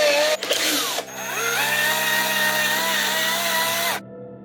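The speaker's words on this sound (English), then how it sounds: "now I'm going to use a drill to actually drill some holes" A power drill whines up and runs steadily, its pitch rising then holding as it bores holes through a pumpkin, then stops abruptly, leaving a faint hum.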